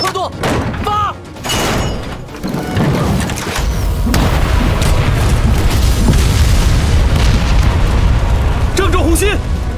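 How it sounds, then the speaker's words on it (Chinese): Artillery bombardment of magic crystal shells in an animated fantasy battle, deep booming explosions that build into a continuous roaring barrage, with voices talking over the opening blasts. "这么大规模的轰炸，您到底藏了多少法师？"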